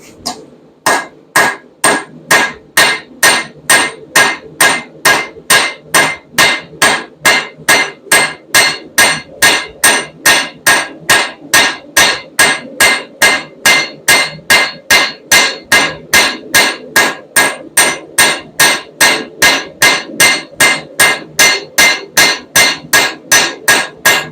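A blacksmith's hammer draws a taper onto the tail of a forged iron hummingbird, dozens of loud close ringing blows struck in a fast, even rhythm without pause.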